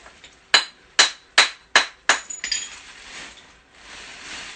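A hammer gently taps a geode: five evenly spaced, bright clinking strikes, followed by a quick flurry of lighter taps and a quiet rustle.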